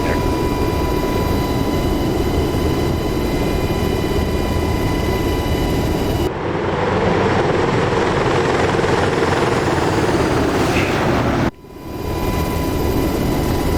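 Helicopter in DCS World flying a formation flyby over the Persian Gulf map, a loud steady rotor and turbine drone throughout with a brief dip near the end.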